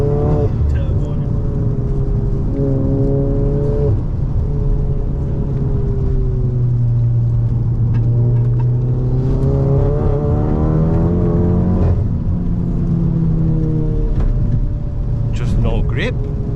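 A 500 bhp Volkswagen Golf GTI accelerates on a wet road, its engine note rising repeatedly through the gears, loud and close, with voices talking inside the car over it.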